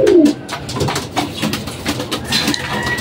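Racing pigeons coo close by while being fed, a soft throaty call at the start followed by steady low murmuring and rustle, with no talking.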